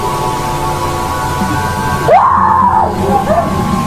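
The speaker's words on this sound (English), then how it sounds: "the woman lets out a guttural scream." A woman who has fallen to the floor among shoppers lets out a loud guttural scream, one drawn-out rising and falling cry lasting under a second, trailing into a shorter cry over a steady background hum.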